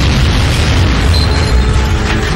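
A rocket-propelled grenade explosion in an action movie gives a loud, sustained rumbling roar that fills the whole stretch with dense low-end noise.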